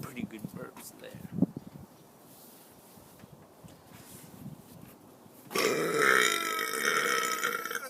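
A person lets out a sharp, loud burp near the start, followed by quiet rustling and breathing, then a louder burst of noisy sound toward the end.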